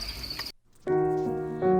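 Crickets chirp at a cricket farm, a steady, close, bright trill that breaks off briefly and then resumes more loudly.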